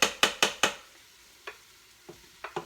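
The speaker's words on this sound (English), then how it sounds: "Now I'm going to throw in the meat." Pieces of andouille sausage and seasoned chicken thighs dropped into a hot pressure cooker pot for paleo gumbo, four quick loud thuds with sizzling bursts, then a pause and a few softer, scattered drops.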